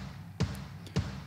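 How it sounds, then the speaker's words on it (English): Room kick drum sample played back on its own in a DAW, two deep, boomy hits about half a second apart with a short roomy tail, no talking. "which is just a room kick sample"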